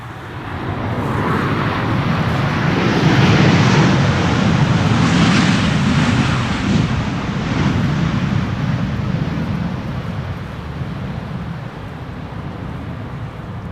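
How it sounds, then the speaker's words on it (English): A KLM Boeing 737-800 airliner, built in 1999 and arriving from Berlin, lands at Amsterdam Schiphol in a crosswind on runway 18R/36L, its broad engine roar swelling loud and close, then slowly fading away. "KLM flight 1778 arriving from Berlin"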